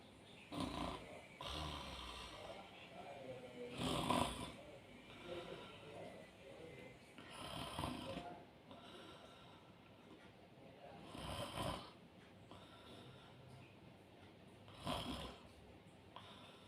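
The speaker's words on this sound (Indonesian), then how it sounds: "Ngorok, tidurnya kayak gini." Someone sleeps hugging a bolster pillow and snores in loud, rough breaths that repeat every few seconds close by, with quieter stretches between them.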